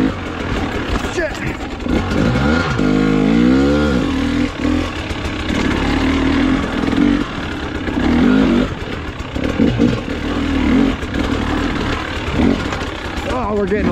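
A 2023 KTM 300XCW two-stroke dirt bike engine revs and bogs continuously while riding on a trail, loud and close, with rising and falling pitch as the throttle changes and a voice talking over it.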